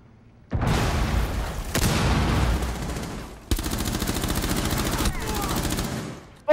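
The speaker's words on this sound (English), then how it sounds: "bullets went right through Ash" Rapid bursts of gunfire in the tactical shooter Rainbow Six Siege, two long loud volleys of fast shots with sharp restarts, close and dominant, with no talk over them.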